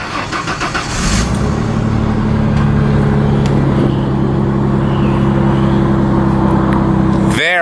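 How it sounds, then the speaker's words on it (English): A low-mileage 2000 Ford Mustang V6 convertible cranks briefly, catches and settles into a loud, steady idle heard up close and alone. "let's go ahead and start the engine"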